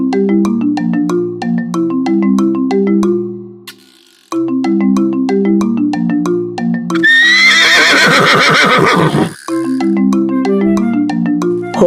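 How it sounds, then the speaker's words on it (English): A cartoon horse on a farm gives a loud, shrill whinny in the middle, set between stretches of bright, rhythmic clip-clop hoofbeats played over a bouncy musical backing, with no speech. "Horse runs very fast. He helps the farmer carry big loads."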